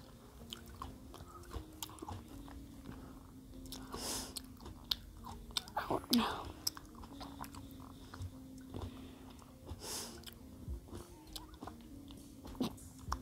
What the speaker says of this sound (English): Sorry if there's eating sound effects. That's just me eating.